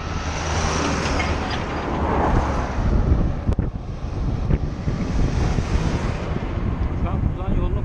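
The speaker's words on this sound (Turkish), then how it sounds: "Bir rüzgar var aslında ama ağaçlar rüzgarı kesiyor genel olarak." Wind blowing across a tree-lined country road between Osmaniye and Adana, a steady broadband rush with gusting swells throughout, close and fairly loud.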